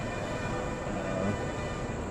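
A train at Ella railway station in Sri Lanka rumbles steadily, a continuous low mechanical drone with no distinct horn or voices, moderately loud throughout.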